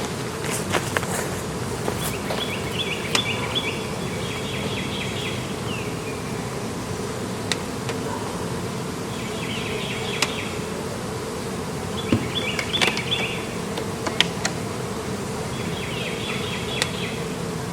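A large honeybee colony from a tree cutout swarm, housed in a Layens hive during an inspection, buzzes steadily and densely up close, with a few brief higher flight hums passing by.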